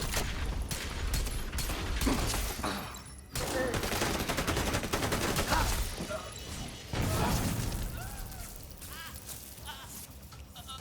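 Video game gunfire with pistol shots, heard as sharp cracks and clattering bursts at irregular intervals over a busy, loud game soundscape, with brief lulls between volleys.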